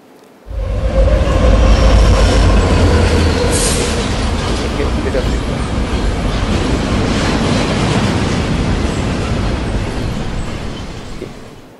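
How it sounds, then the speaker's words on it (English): Life-size train in a video installation rumbles past with a steady broadband roar, loud and close from the start, a low thump at the onset and a slow fade near the end; a voice talks faintly beneath. "So there's a train that passes by, and the train is actual life size."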